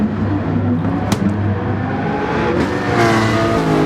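Racing car engine in GT Sport at the Autopolis circuit, a steady loud drone with harmonic whine that shifts pitch around a hairpin approach, with a brief sharper burst near the start.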